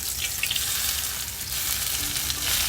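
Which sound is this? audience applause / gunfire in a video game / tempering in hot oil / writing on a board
tempering in hot oil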